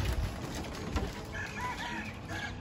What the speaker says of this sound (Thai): มีเสียงไก่ขันด้วย